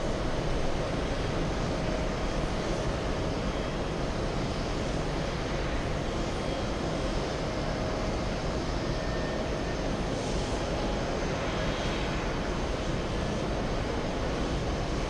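A Korean Air airliner taxis at JFK, its engines giving a steady, fairly faint broadband rumble and whine heard from a distance, with no voices.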